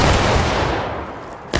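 A musket volley from a line of soldiers in the Civil War game War of Rights booms out as one loud, dense blast of overlapping gunfire, then rumbles and decays over about a second and a half before a sharp new crack at the end.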